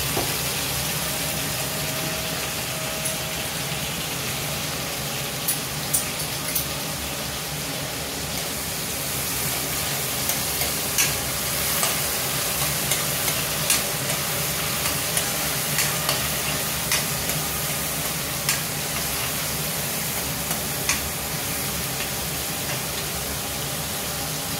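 Tomato pieces and green chillies fry in oil for chicken biryani, a loud, dense, steady sizzle with scattered pops and crackles throughout, close and uninterrupted by talk.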